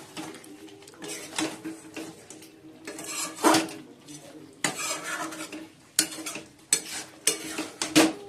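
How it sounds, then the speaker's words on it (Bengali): Marinated chicken sautéed and stirred in a pan, close spatula scraping and clattering against the pan in irregular bursts over a soft sizzle. "চিকেনটা ভালো করে কষাচ্ছি"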